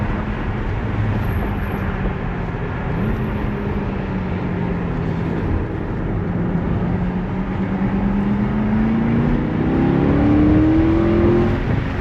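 Corvette C6 accelerating on a race track during a track day, a loud continuous engine drone heard from inside the car, pitch sagging then climbing steadily toward the end as revs build.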